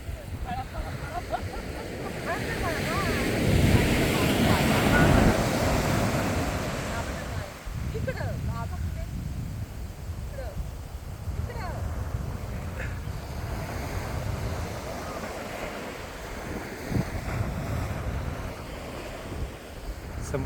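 Sea waves wash onto a beach where tourists are bathing and boats sit offshore, a continuous roaring surf swelling and easing, heavily mixed with wind buffeting the microphone.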